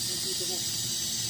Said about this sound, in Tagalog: Ayan, nirelease ko na yung pressure.